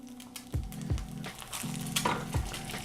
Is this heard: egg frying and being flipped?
yes